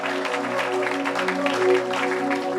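A church congregation at a deliverance service claps and cheers in praise of the Lord, a dense, steady wash of applause over a sustained organ or keyboard chord, with no pause across the stretch.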